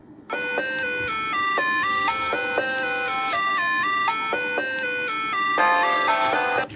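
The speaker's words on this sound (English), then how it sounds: "This guy right here sampling the ice cream truck." An ice cream truck jingle is sampled into a song: a bright, chiming electronic melody of stepped notes repeats steadily and loudly for several seconds over a low bed of noise, with no talking.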